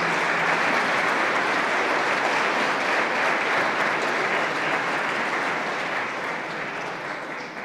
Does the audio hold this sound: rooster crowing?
no